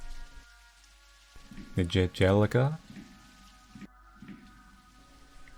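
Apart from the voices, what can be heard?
rain falling, from a Japanese horror video game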